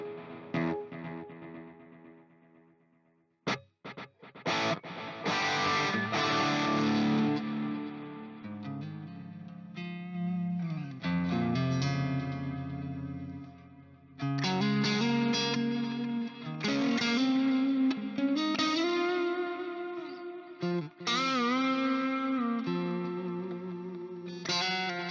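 Electric guitar played through a Fractal processor with a lush chorus effect, close and clear, shifting between sustained chords and single-note phrases with swirling, doubled shimmer and brief pauses between passages.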